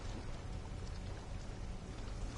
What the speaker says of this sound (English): it sure sounds stormy